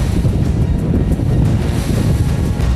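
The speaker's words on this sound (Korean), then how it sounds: "점점 더 거세지는 파도." Rough, worsening sea waves crash and surge continuously around a skate-fishing boat off Heuksando, with heavy wind rumble filling the clip loudly and without pause.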